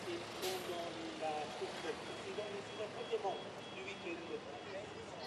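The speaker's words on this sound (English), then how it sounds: "the Ford F-Max retreats into the paddock" A Ford F-Max racing truck backs into the paddock at a circuit race, its steady reversing beeps repeating faintly beneath a commentator's continuous talk and general trackside noise.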